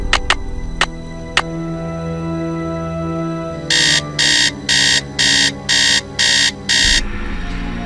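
An alarm clock rings in the Nancy Drew game Message in a Haunted Mansion, seven loud evenly pulsed electronic beeps over a background music bed, after a few faint ticks.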